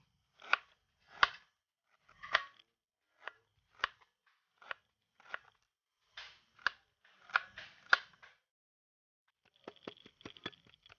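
Ginger is cut and crushed for a Kerala koorkka and sardine curry, giving a series of sharp, evenly spaced chopping knocks, then a quicker run of light ticking taps.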